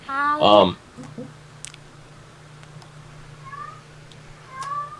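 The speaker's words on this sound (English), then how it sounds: "If my cat is going nuts in the background over here." A cat yowls loudly and excitedly near the start, with faint chirps and a low steady hum through the rest.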